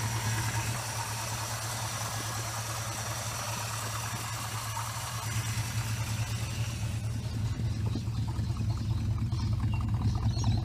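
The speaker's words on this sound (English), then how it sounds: "that exhaust note from a Mopar engine, you can't beat it" A 1968 Plymouth Valiant with a Mopar engine idles steadily with a low exhaust rumble, nearby and continuous, with the tone shifting a little partway through and no voices.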